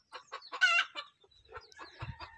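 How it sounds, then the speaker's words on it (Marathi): A hen with her chicks clucks in a short run of quick, close calls, then softer clucks follow over a couple of seconds. "ती कोंबडी तिकडे पिल्ल घेऊन गेली."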